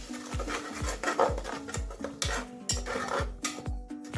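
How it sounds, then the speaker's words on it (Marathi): Tomato paste for pav bhaji stirred and sautéed in a pan, a spoon scraping the pan in a steady rhythm of about two strokes per second, close and moderately loud, with soft sizzling under the strokes. "ही छानपैकी आपल्याला परतून घ्यायची याच्यामध्ये"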